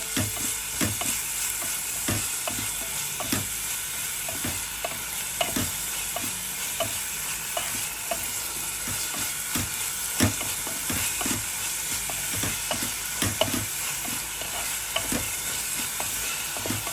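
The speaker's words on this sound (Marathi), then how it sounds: "आतां हांव हितून पियाव घालता" Onions frying for dal tadka: a steady sizzle broken by a regular series of sharp scraping and knocking strokes as a spoon stirs the pan, close and fairly loud, with no speech.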